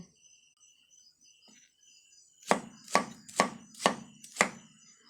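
A knife chops through pork belly on a board in a home kitchen, five sharp, evenly spaced strikes close up, with insects chirping softly in the background and no talk.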